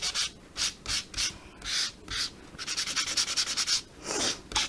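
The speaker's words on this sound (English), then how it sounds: "I'm just going to go in with our sanding block and take this back" Rough, rhythmic rubbing of a sanding block, slow strokes at first and then a quicker burst, up close with no talking.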